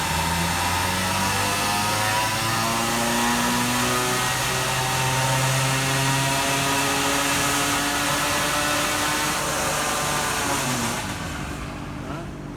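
A motorbike engine held at full throttle on a dyno, a loud, sustained high-revving drone with steady rising tones that tails off slightly at the end.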